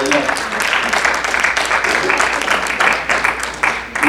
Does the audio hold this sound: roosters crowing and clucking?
no